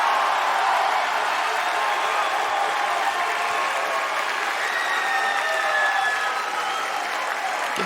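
A large tennis crowd at the 2025 US Open, during a second-round women's match, claps in a steady, dense roar of applause that holds the whole time with no clear breaks.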